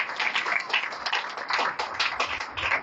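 A congregation at a Sunday prayer meeting claps in quick, steady rhythm, a dense run of hand claps heard fairly close with no talking over it.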